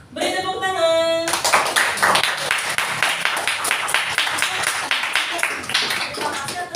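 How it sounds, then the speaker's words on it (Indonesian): A group claps hands after an Indonesian teacher training presentation, lively scattered clapping with distinct sharp hits following a brief spoken tone at the start, steady throughout at close range. "Beri tepuk tangan."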